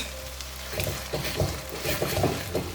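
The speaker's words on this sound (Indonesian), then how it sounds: "Jadi mesti sabar mengaduknya itu sampai akhirnya dia menjadi hitam." Madura duck frying and sizzling in a thick black spice sauce in a pan, stirred with steady scraping strokes that come in repeated bursts over a constant close sizzle.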